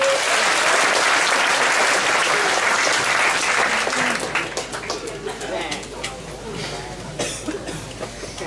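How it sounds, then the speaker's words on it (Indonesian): Loud applause from a large crowd at a night religious gathering, thick at first and then thinning into scattered claps, with voices murmuring and a cough now and then underneath. "Pak Muzamil, silakan berdiri, tepuk tangan semuanya."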